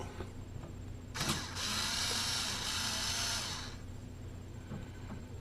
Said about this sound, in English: Let me go ahead and pull the bottom off here.